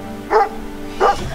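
Dogs trapped in floodwaters in Rio Grande do Sul bark twice, two sharp, close yelping barks about two-thirds of a second apart over a low background hum.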